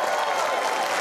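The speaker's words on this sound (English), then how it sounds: "a big round of applause, please, for our supergroup from the Crescendo Trust of Aotearoa" A studio audience applauds a supergroup of young musicians from the Crescendo Trust of Aotearoa on a New Zealand comedy show: a brief, even wash of crowd clapping and cheering.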